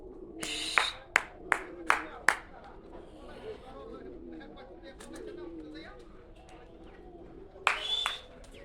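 Pigeons released from a rooftop, with several sharp wing claps as the birds take off and a burst of flapping near the end, soft cooing and distant voices in between.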